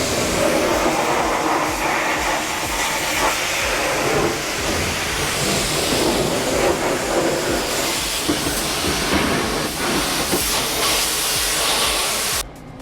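Loud, continuous hissing spray from a pressure washer blasting debris out of a food truck trailer, a dense rushing roar close by that cuts off abruptly at the end.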